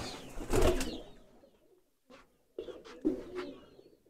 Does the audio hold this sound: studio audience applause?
no